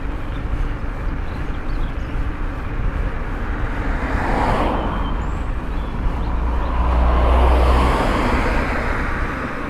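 Road traffic on Main Street, heard from an eMTB: a dense, steady rush of passing vehicles with wind noise and a deeper swell of a nearby engine toward the end.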